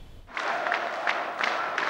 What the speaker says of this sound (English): The crowd is unbelievably excited.